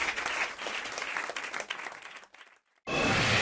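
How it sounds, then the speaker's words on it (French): Studio audience applause on a French radio comedy show, a full burst of clapping that fades out, a brief silence, then another loud wave of applause cuts in. "Sous vos applaudissements, comme aurait dit Jacques Martin."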